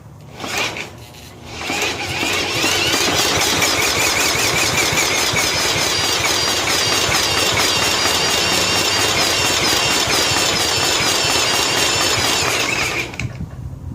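Engine of a 1995 John Deere STX38 lawn tractor cranking at half throttle on a shot of ether, a loud, continuous rapid whirring churn that runs for about twelve seconds before cutting off, alone without talk.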